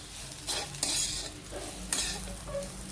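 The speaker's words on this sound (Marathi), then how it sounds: "आणि तुपात मिक्स करायचं सगळं, बटाटा, शेंगदाणे, मिरची।" Diced potato, peanuts and chili frying in ghee for sabudana khichdi are stirred with a spoon, a steady sizzle with scraping strokes against the pan that rise and fall in a few close, loud passes.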